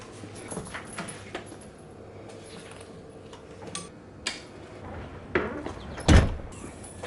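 A house front door is shut and locked, with scattered close clicks and knocks building to a firm thud near the end, over quiet room ambience.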